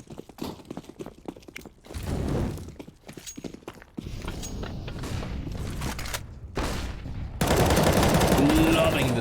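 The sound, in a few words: gunfire in Counter-Strike video game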